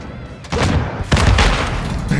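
A rocket detonates in a Modern Warfare 3 Search and Destroy match with two heavy booming blasts about half a second apart, loud and close, followed by lingering rumble and a voice in the background.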